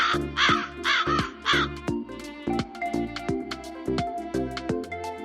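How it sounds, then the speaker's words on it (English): A crow caws in a run of harsh, loud calls, three strong rasping caws first and then quicker, lighter repeated caws that continue to the end. "The sound of crow."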